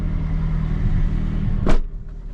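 A McLaren 570S starts from inside the cabin: a steady low rumble, then a sharp loud surge as the engine catches, settling into a lower, quieter drone.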